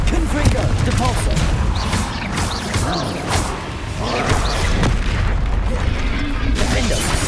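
Repeated booming spell blasts from Bombarda and Confringo in Hogwarts Legacy, dense and continuous with whooshes and thuds layered over one another, loud throughout.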